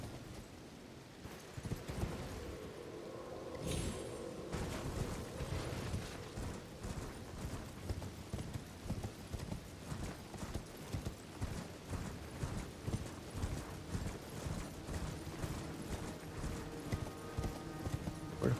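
Horse hooves clip-clop steadily in the video game Elden Ring, a rapid, regular rhythm running for the whole stretch at moderate loudness, with game noise underneath.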